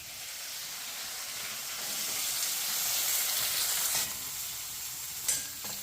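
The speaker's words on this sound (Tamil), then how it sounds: "காயெல்லாம் நல்லா வதக்கிட்டு புளி ஊற்றி நல்லா கொதிக்க வச்சிடலாம்" Mixed vegetables sizzle and hiss in a hot pan for tamarind kuzhambu, a steady frying crackle with a few sharper stirring scrapes near the end.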